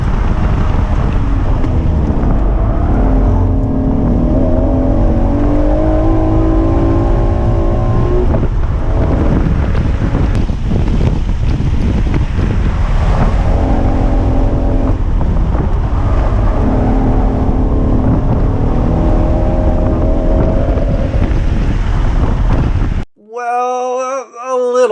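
A naturally aspirated Acura NSX with stock aero, on 200-treadwear Yokohama A052 street tires, drifts at Buttonwillow: a loud engine rises and falls through revs under heavy wind roar, then cuts off abruptly near the end.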